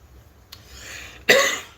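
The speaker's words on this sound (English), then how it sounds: "Sorry about the coughing" A faint breathy sound, then one sharp cough close by, trailing off quickly over a low background hum.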